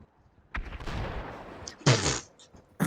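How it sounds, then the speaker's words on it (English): Explosion in a GTA-style video game roleplay, a loud broadband blast bursting in at about two seconds after a stretch of rumbling noise, with another sharp hit at the very end. "Do you care to comment on that explosion?"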